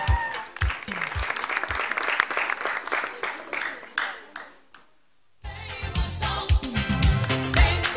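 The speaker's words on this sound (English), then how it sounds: "Please welcome Uncle Kwame with a round of applause" Applause from an audience at a children's talent show, brisk clapping with some voices, dropping to near silence midway before a louder burst of clapping and crowd noise resumes.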